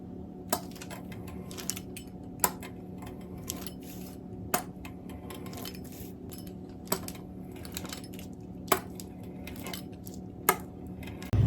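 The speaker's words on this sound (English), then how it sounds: "I'm going to use a pizza cutter and go ahead and trim it." A pizza cutter trims and slices dough into pieces on a kitchen surface, making a scattering of light, sharp clicks and scrapes at irregular intervals, close up over a quiet room background.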